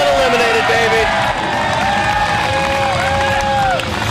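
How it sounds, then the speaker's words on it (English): A demolition derby crowd cheers and applauds in a loud continuous roar, with whoops rising above the clapping throughout. "Let's have a big round of applause"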